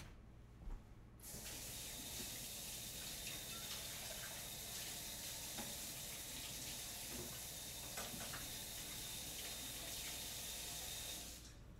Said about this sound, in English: I'm going to rinse off my cutting board before I mess with the sausage